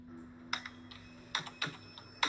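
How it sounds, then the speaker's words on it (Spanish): Computer keyboard typing during an online session, several separate key clacks in irregular bursts, close and fairly quiet, with no voices. "mientras está escribiendo Pedro"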